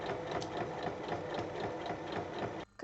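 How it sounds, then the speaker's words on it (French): A sewing machine stitches two pieces of fabric placed right sides together along three sides, with a steady close whirring drone that runs continuously before stopping abruptly near the end. "je les place endroit contre endroit et je pique sur trois côtés"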